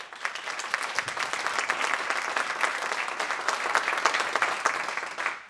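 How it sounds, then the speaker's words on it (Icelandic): Audience at an Erasmus+ annual meeting applauds music school performers who played a flute piece, a steady, fairly close burst of clapping lasting several seconds without speech. "Bara gefum þeim aftur gott klapp."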